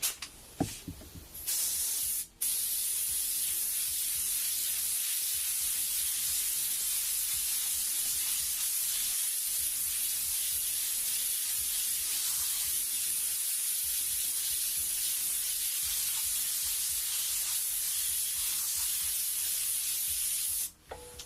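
A large airbrush-style spray gun with a tight cone hisses continuously while laying out a flame design on a big project, a steady, loud, close airy spray broken only by a few brief pauses at the start.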